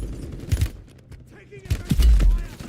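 Bursts of gunfire in the battle royale video game Warzone, loud and close, with a short volley around half a second and a heavier cluster of shots near the end, separated by quieter gaps.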